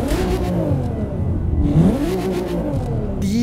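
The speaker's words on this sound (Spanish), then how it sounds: "qué hermoso suena el auto" A tuned luxury car in The Crew 2 racing game revs loudly and continuously, its engine pitch climbing and falling in repeated surges with a whirring, slightly clattering tone, heard alone with no talk.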